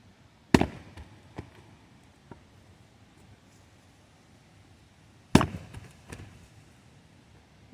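Heavy pieces of split oak dropping to the ground, two loud thudding impacts about five seconds apart, each followed by a few smaller knocks as the wood settles, with quiet background between.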